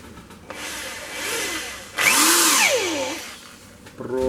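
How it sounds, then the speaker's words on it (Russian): An electric drill bores a hole for a thread in an IZH Jupiter 3 motorcycle engine part, whining in bursts that rise and fall in pitch, loudest in the middle, close by. "Так, вот дрель. Сейчас будем сверлить"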